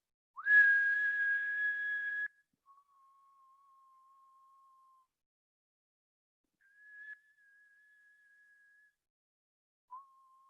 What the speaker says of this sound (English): I learned that it was the varied thrush that was whistling